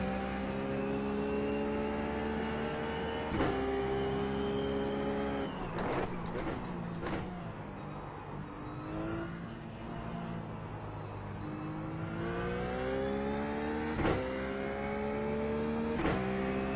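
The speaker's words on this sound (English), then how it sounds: "I did a blip on the throttle, but it wasn't all the way off like before" Race car engine in the iRacing sim: a steady loud drone with rising and falling revs, sharp gear-change blips and a brief throttle blip mid-run, then climbing under acceleration.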